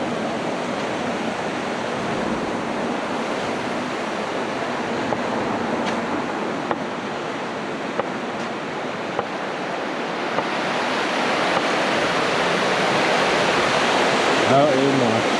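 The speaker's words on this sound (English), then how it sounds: "The river is quite loud on this side and stuff." Loud, steady rush of a river flowing beneath a bridge, a dense broadband roar filling the space throughout, with a few faint clicks and knocks over it.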